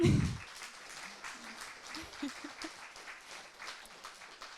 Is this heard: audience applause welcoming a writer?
yes